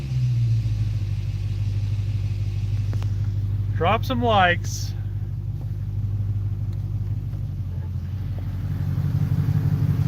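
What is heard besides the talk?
car engine and exhaust with stock muffler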